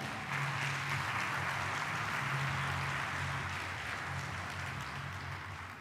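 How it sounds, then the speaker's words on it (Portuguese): A church congregation claps steadily in a dense, continuous wash of applause that holds for several seconds with little change in level. "Quem recebe aí, aplauda Ele de coração."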